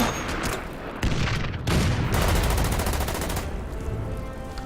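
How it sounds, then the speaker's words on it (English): Artillery fire in the wargame Order of Battle, set on the Burma Road at Imphal in 1944: dense, loud booming blasts in quick succession that merge into a continuous rumbling barrage. "Artillery."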